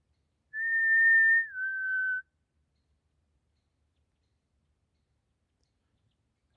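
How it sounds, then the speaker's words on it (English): A person whistles a single sustained tone in a forest, sliding down slightly partway, alone in near silence for under two seconds, followed by quiet. "I've been whistling for about 2 minutes and the forest has just come alive with birds."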